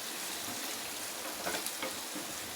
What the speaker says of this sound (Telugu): నాన్ స్టిక్ అయితే చక్కగా అంటుకోకుండా ఫ్రై అయిపోతాయండి